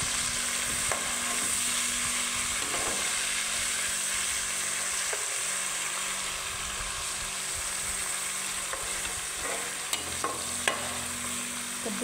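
Tomatoes fry in a pan with a continuous close sizzle and hiss, broken by occasional stirring clicks and spatters, steady and moderately loud.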